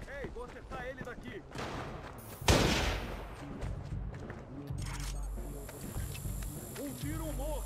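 A sharp, loud gunshot in Watch Dogs on PS4 bursts out amid busy game noise and chatter, followed by scattered fainter clicks and shots.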